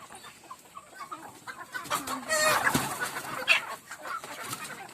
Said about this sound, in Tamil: இப்போ பாருங்க கோழி வந்து சாப்பிடும்.